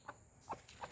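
Three short clucks from backyard village chickens basking in winter sun, evenly spaced across a brief quiet moment, close by with faint background hiss and no talking.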